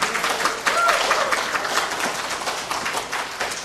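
Church congregation clapping at a Sunday worship service, a broad steady wash of many hands applauding together for several seconds, fairly close and even throughout.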